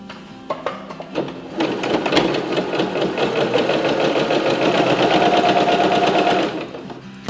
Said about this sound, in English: And I sew as close to that edge as I possibly can and as straight as